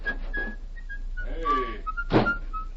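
A person whistles a bright tune while walking away in a 1938 Lone Ranger radio drama, the thin melodic notes steady across the clip with brief rustling and footstep noises between them.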